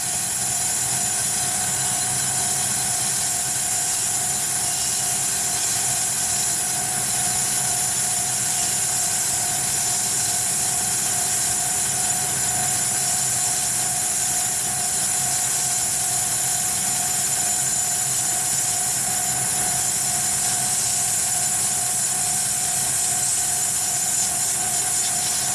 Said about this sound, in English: So that's the machining done for this part on the lathe anyway.